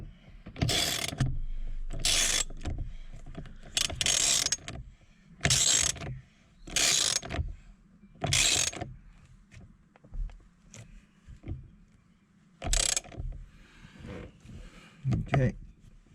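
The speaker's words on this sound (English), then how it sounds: "Once it gets snug, then you can attach the ratchet and tighten it down." Ratchet tightening a bolt on a Mercedes C/E-Class W204/W212 steering lock, heard as repeated short bursts of clicking in quick strokes with pauses between, close by.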